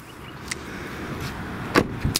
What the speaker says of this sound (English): You can just move this whole seat forward and get it out of your way.